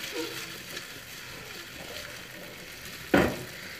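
Potatoes browning in a pan give a soft, steady sizzle, fairly faint throughout, broken once by a brief louder scrape or stir near the end.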